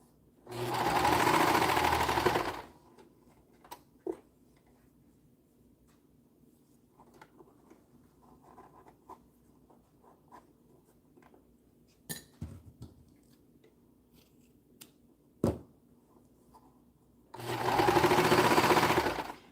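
A serger sewing machine stitching cloth nursing pads, with two loud, steady runs of fast motor whir at the start and end, and quiet handling clicks and taps between them.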